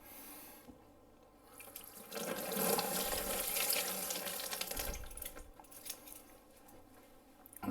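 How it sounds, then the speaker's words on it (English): Razor rinsed under a running tap, water splashing and gushing steadily for a few seconds close up, then easing into softer drips and trickles with light metallic handling. "Quick rinse."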